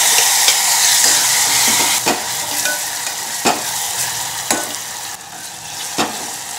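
Tomato goes into a loud, sizzling spice tempering of curry leaves, bay leaf, asafoetida, turmeric and red chili powder for a Gujarati thali, with a steady hiss broken by sharp spoon scrapes against the pan every second or so.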